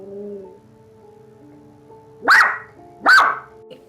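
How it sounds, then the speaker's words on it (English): A miniature poodle at home lets out two sharp, loud barks about a second apart, following a stretch of quiet low background hum. "My dog started barking. I took my phone and recorded it."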